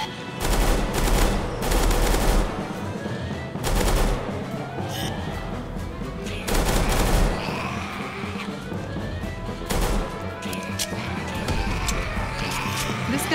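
Rapid bursts of gunfire from a weapon in a Roblox zombie battle royale game, loud and close, rattling in repeated volleys with short pauses between them.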